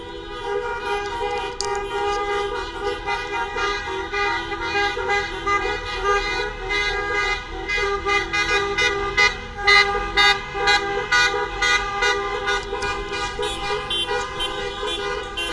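Car horns honking from many vehicles in a merchants' protest in the streets of San Salvador de Jujuy, a continuous overlapping din of toots and long blasts, loud and close, with traffic rumbling underneath.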